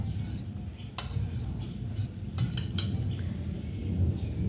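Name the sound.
serving food with a spoon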